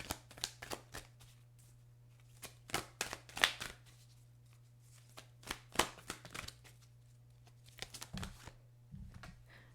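Oracle cards are shuffled by hand in a steady run of quick papery riffles and slaps, close up over a low constant hum, with no talking.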